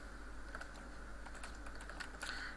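Typing on a computer keyboard while writing code, with quick irregular key clicks in short bursts, close up over a steady low electrical hum and no talking.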